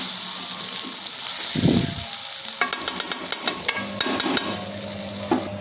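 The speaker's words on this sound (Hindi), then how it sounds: "1 मिनट तक इन दोनों चीज़ों को हम फ्राई करेंगे" Green chillies sizzle and crackle in a hot pan, a soft steady frying hiss broken by a burst near the start and then a run of sharp pops and spits, fairly close.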